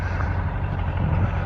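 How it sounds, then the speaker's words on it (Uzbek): A tractor approaches through an orchard with a steady, low diesel rumble, close and constant, with no voices. "Traktor kelyapti hozir."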